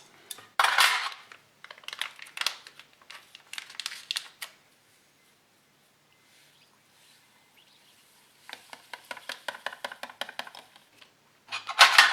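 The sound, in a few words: metal spoons clinking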